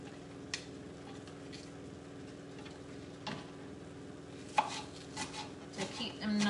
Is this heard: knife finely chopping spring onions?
yes